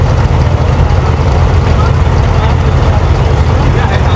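A Dubai RTA passenger boat's engine drones loud and steady close by, a dense low rumble with wind-like noise throughout.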